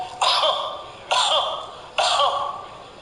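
Three separate harsh coughs from one person, spaced about a second apart, each loud and close with a short rasping tail, no talking.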